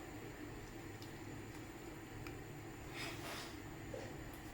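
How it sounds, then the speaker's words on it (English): Chinese Hakka noodles cooking in a simmering pot of soup, a faint steady bubbling and hiss with soft gurgles and no talking. "Bring this to a boil and let the noodles cook."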